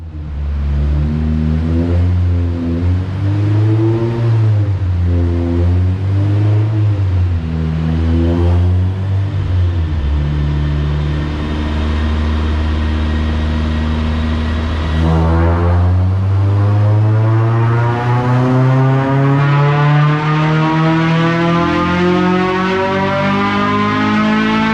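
An eighth-generation Honda Civic Si with a K20Z3 engine and short ram intake revs hard on a dyno with the hood closed. The engine is loud and continuous, with repeated rising and falling revs before a long sustained climb to high rpm.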